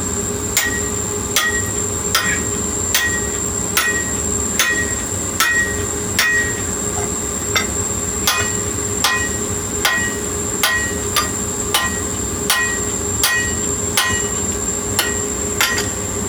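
A hand hammer rings out on a steel punch while forging a hammer eye by hand without a striker, a steady series of sharp, loud metallic blows at an even working rhythm, close up and with no talk.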